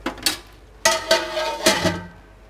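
Metal lid set onto a pot of prawn biryani, a few close clanks and rattles in three short bursts with brief ringing, no talking.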